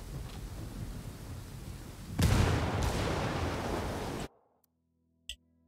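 A frag grenade explodes in Ghost Recon Wildlands, a sudden broadband blast over low rumbling ambience that rolls on loudly for about two seconds before cutting abruptly to near silence, followed by a brief faint thud.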